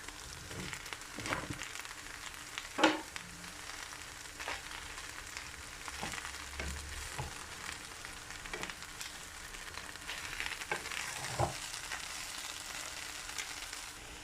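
Mushrooms fry in a pan for a bohça kebab, a soft continuous sizzle with occasional stirring scrapes and light taps, fairly quiet and close.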